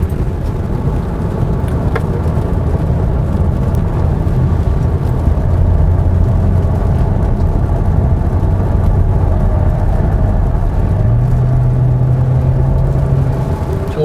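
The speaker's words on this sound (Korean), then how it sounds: "90km로 정속 주행할 경우에는 타이어 소리가 조금 더 많이 들리긴 하는데" Steady tire and road noise from a 2021 Kia Sorento Hybrid 2WD on 19-inch tires, cruising around 90 km/h on a rainy road, forms a constant rumbling wash inside the cabin with no talk.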